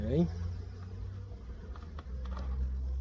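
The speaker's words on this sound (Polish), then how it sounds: "Na całej ściance też pszczoły." Honeybees crawling over a hive wall and bringing in pollen at an open hive, giving a steady low buzzing hum that runs throughout at close range, with a brief louder buzz near the start.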